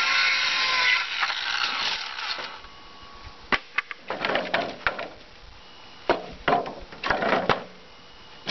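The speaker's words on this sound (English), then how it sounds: "I have to trim these so they'll overlap on one of the main supporting beams of the pallet." Wood pallet boards being trimmed for RV porch framing give a run of rough sawing strokes, then a series of sharp knocks, snaps and scraping bursts, close and separated by quiet gaps.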